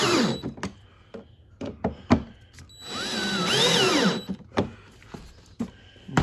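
Power drill driving screws into a Rolly John Deere toy tractor during assembly, several short whirring bursts with one longer rising and falling run in the middle, close and clear.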